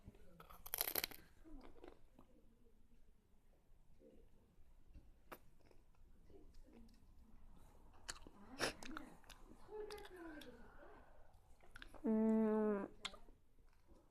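Popin' Cookin' DIY ice cream candy is eaten close up with soft crunching, chewing and small clicks, and brief vocal sounds and murmurs between bites.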